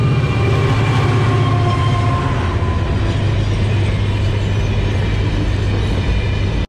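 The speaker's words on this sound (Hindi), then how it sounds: "ये गई भाई ट्रेनों पे ट्रेन।" A long train rolls steadily past in Mauritania, loud and close, with a continuous heavy rumble and rattling wagons that hold the same level throughout before cutting off at the end.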